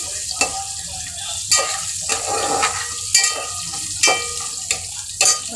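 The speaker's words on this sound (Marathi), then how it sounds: "टॅमॅटो पण चांगलं फ्राय करून घ्यायचं तेलामध्ये." Tomatoes frying in oil for a Marathi-style dal and rice dish, a steady sizzle broken by repeated sharp stirring scrapes roughly every second, close up with no voices.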